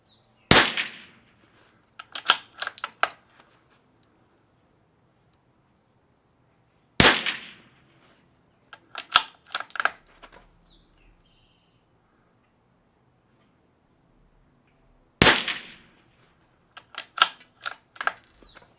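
Three sharp .22 rifle shots from a Lithgow LA101 / CZ455 with Walther barrel firing Eley Tenex, spaced several seconds apart, each a crisp crack followed by bolt and handling clicks, with no talk.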